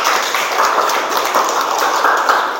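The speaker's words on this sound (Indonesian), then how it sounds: "beri tepuk tangan untuk kelompok 5" A classroom audience claps for a student group after its presentation, with dense, fairly loud applause that carries evenly through the whole stretch and no voices over it.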